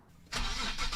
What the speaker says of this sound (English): let's see if this car will start without the key being in the ignition switch.